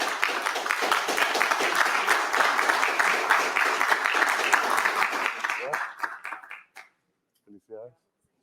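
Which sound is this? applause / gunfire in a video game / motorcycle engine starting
applause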